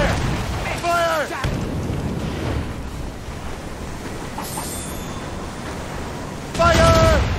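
Naval cannon fire rumbles and booms from a sailing ship in Assassin's Creed Rogue, a heavy, continuous roar of blasts. Voices shout commands at the start and near the end.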